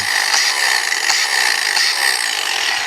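A DeWalt DCG412 20V brushed cordless angle grinder runs steadily, giving a loud, continuous high whine with a faint pulsing rhythm, close by and with no talking.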